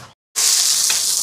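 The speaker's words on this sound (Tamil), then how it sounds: "இங்கே எண்ணெய் சூடாயிட்டு மீனை பொரிக்க போடுவோம்." Fish, a rock-fish variety, sizzles loudly in hot oil after a brief silent gap, a dense steady frying hiss that fills the rest of the moment with no voices.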